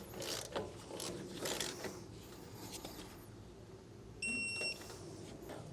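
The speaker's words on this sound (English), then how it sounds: "I am tightening these down in a star pattern too" Backing plate bolts on a trailer wheel hub being tightened one after another, giving quiet ratcheting clicks and metallic mechanism sounds, with a short electronic beep near the end.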